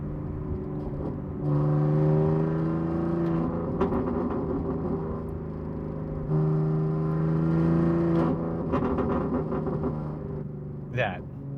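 Car fitted with a Valvetronic exhaust and ARM downpipes, running a burble tune: a close, droning exhaust note that swells twice as revs rise and settle, ending in a brief crackle.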